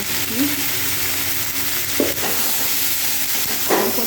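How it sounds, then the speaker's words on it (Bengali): Potatoes and pointed gourd fry and sizzle in a pan for a potato, pointed gourd and soybean curry, a steady close hiss with occasional stirring scrapes. "আলু পটলটা ভালো করে ভেজে নিই"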